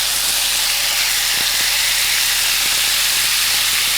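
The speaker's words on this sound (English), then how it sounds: "Oh, listen to that sizzle." Loud, steady sizzling hiss of swordfish searing on a hot George Foreman grill, continuous throughout with no talking.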